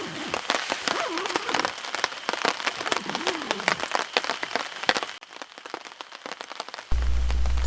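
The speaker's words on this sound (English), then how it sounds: "listening to the rain" Rain falls on a tent at a spring campsite in the Boundary Waters, heard from inside as a close, irregular patter of drops that thins out before a louder steady wash at the end.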